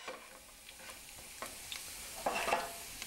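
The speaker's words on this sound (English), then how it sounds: "Let that garlic release its flavor into the oil." Garlic and crushed red pepper sizzle quietly in oil, a faint hiss broken by several scraping stirs of a utensil that grow louder toward the end.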